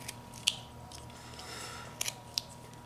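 A knife carving shoes into a small wooden whittled figure makes a few sharp, crisp snicks, three or four brief cuts spaced apart over a quiet, low hum, close to the ear.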